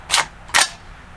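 A .450 Bushmaster rifle's bolt or action runs forward to chamber a round, two sharp metallic clacks about half a second apart, close and loud, with no talking.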